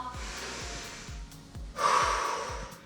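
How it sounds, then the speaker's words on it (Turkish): Deep, audible breaths taken during a beginner exercise workout: a steady series of rhythmic low puffs, about one every half second, close and moderately loud, followed by a brighter, louder rushing exhale near the end. "şöyle büyük bir iki nefes al"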